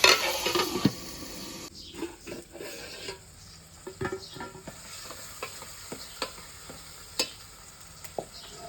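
Green chillies cook in a pan with a soft, steady sizzle while a spoon scrapes and clinks against the metal in several sharp taps, close by.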